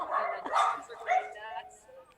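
Dogs barking excitedly at a ringing doorbell, a few quick close-up barks and yips in short bursts that taper off.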